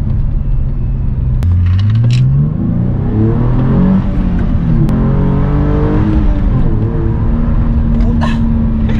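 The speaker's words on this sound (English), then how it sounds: "Tsaka bilis mag-rev eh, oh." A 2010 Hyundai Genesis V6 coupe engine revs hard, its pitch climbing and falling in repeated sweeps over a steady loud rumble, close up with no talk.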